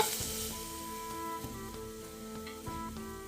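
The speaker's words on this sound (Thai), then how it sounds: "ลวนเนื้อให้มันสุก ลวนให้มันแห้งเลย" Beef stir-frying dry in a pan for Thai panang curry gives off a low, steady sizzle, punctuated by faint scrapes and light clinks of the spatula against the pan, with no talking.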